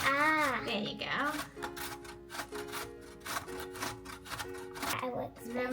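A child grates food on a hand grater for a plant-based lasagna, producing repeated rhythmic rasping strokes up close, with a child's and an adult's voices talking over and between them.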